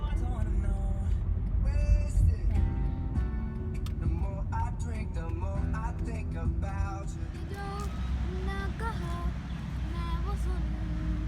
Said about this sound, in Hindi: साथ गाड़ी पे म्यूज़िक भी एंजॉय कर रहे हैं